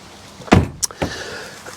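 Ineos Grenadier driver's door opening and shutting as the driver climbs out, a sharp metallic latch clunk followed by a brief click and a duller thud, all close and quick.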